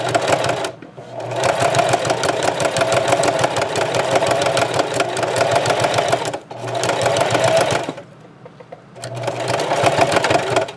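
A sewing machine stitches a thick tote made from Dollar Tree placemats, whirring loudly up close in three long runs separated by brief silent stops.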